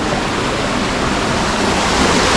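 A waterfall in the Tajo de Ronda gorge roars as a dense, steady rush of falling water, loud and close and unbroken throughout, with no voices.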